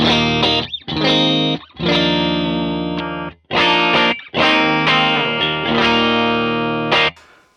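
An electric guitar played through a Vox amp with all pedals switched off, with bright, slightly gritty strummed chords ringing out in several phrases separated by short pauses, loud and close.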